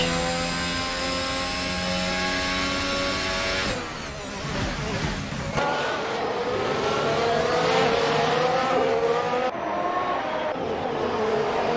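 A Mercedes Formula 1 car engine in the racing game Assetto Corsa screams at high revs, with loud whining harmonics, abrupt shifts in pitch and tone as the sound changes, and a sustained, close, continuous howl throughout.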